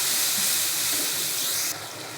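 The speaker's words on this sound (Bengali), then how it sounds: "এই যে এখন একটু পানি দিয়ে দিব" Water poured into a pan of sizzling spices fried in oil, a loud rushing hiss of steam that cuts off sharply to a quieter simmer near the end.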